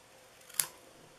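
Scissors make a single quick, faint snip through a small paper tag for a mini Christmas jar treat box, alone in a quiet room.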